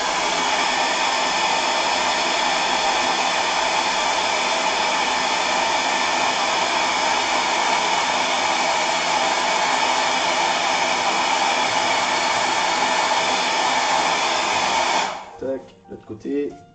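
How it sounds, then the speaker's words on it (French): A hair dryer blows with a steady, loud whooshing whir for about fifteen seconds, then cuts off, followed by brief quiet handling sounds. "Sèche-cheveux, prise 2."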